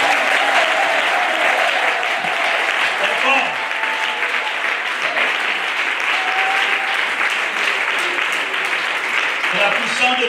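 A church congregation claps and cheers for the Lord during a French-language service, a dense, loud, sustained wall of applause that runs the whole way through with a few voices mixed in.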